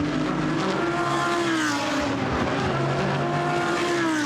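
A GT race car roars past on the Brands Hatch circuit during Blancpain GT Series Sprint Cup practice in 2018, its engine loud, close and sustained, with a hint of tyre scrub and no voices.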